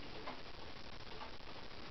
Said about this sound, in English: Today we got an 8-day cuckoo clock